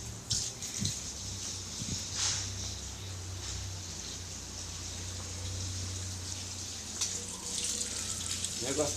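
Water runs from a garden hose laid into a mint plant, a steady spattering flow with faint drips. Low voices and a background hum sit under it.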